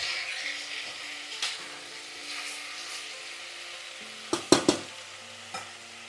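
Rice, salt and pepper being stirred into a pot of carrot soup: a soft steady sizzle under scraping, with a few sharp clinks of a utensil against the pot near the end, no talk.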